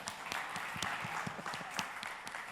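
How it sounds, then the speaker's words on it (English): An audience at a tech company showcase claps as a presenter takes the stage, a brief burst of scattered individual hand claps, moderately close, with no talk over it. "Clap, we clap"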